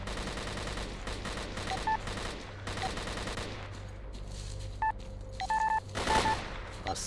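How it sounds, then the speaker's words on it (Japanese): Rapid bursts of automatic gunfire crackle repeatedly from a battle at a bridge in the video game S.T.A.L.K.E.R. Clear Sky, mixed with short electronic beeping tones and game sound effects. "さっきから聞こえてる銃声は向こうの戦闘音か"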